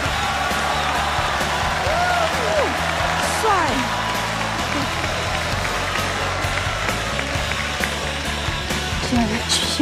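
Studio audience at a Chinese television job-hunt show applauds to welcome a guest, a broad continuous wash of clapping and crowd noise over music, with a few brief vocal sounds mixed in.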